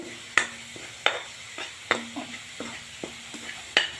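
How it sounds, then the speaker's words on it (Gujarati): A spoon scrapes and knocks against a pan while stirring green garlic curry with spices, giving sharp, separate clacks about every half second over a faint sizzle. "એટલે હું ચમચાથી હલાવું છું"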